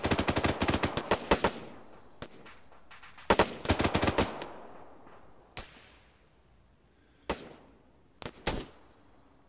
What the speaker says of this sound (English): rapid fire on that barn